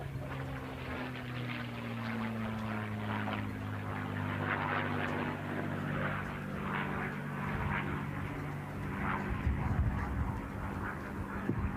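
A P-51 Mustang propeller plane drones overhead at an air race in Roswell, New Mexico, a steady moderately distant engine hum with a slight pitch shift as it passes, over faint crowd ambience.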